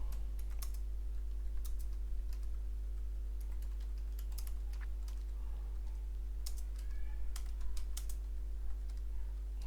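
Scattered, faint keystrokes as an address is typed on a computer keyboard while filling an online Tea Board registration form, sparse clicks in small clusters over a steady electrical hum.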